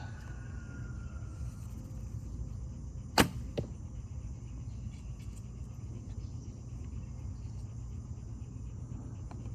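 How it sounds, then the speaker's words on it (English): A single arrow shot from a Bear Kodiak 51 lb recurve bow fitted with an 8125 string, firing a Gold Tip Warrior arrow at close range: one sharp snap and quick release, then a faint second tick, over steady outdoor hum and insects. "I'm gonna be shooting this bow close. See if there's a sound difference."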